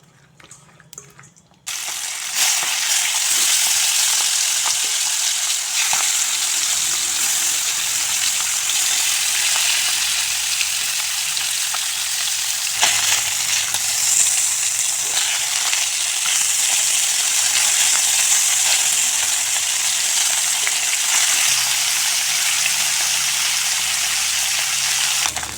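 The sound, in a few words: turmeric-coated fish frying in oil in a wok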